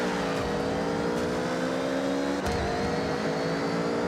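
Punchy little run-around car driving in Forza Horizon 6, with a steady loud engine drone that shifts pitch as it revs and a brief gear-change dip midway.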